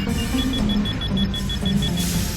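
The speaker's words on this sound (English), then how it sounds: "Your engines start to heat up and a slow beeping starts." A slow, steady warning beep from a video game signals engines overheating during a speed boost, repeating as evenly spaced short high tones over a constant low engine drone.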